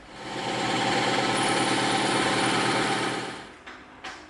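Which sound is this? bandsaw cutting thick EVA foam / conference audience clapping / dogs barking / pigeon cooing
bandsaw cutting thick EVA foam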